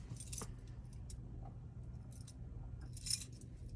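A bunch of keys, including a silver bottle opener, jangles close by in short metallic bursts at the start and again near the end, with quieter clinking and handling in between.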